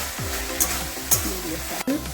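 Ash gourd ghonto frying in a pan, with a steady close sizzle broken by several scraping stirs of a spatula and a couple of sharp clinks against the pan.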